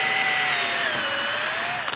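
A drill bit boring into wood through a guide while building a router plane from a kit, with a continuous high whirring whine that drops slightly in pitch, close and loud, stopping abruptly.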